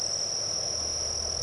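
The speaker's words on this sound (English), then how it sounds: "I'm hearing crickets during the day most days now." Crickets chirp during the day in a steady, high continuous trill over a low outdoor background hum, with no talking.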